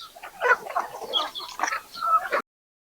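Desi country chickens on a poultry farm give a close run of clucks and short squawks in an irregular, busy burst that stops abruptly.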